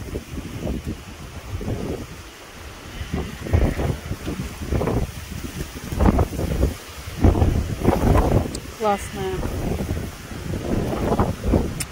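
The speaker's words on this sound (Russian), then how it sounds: "Какой ветер, ураган." Strong, gusty wind blows through a garden with raspberry bushes, buffeting the microphone in loud, uneven rumbling bursts, while a person speaks briefly.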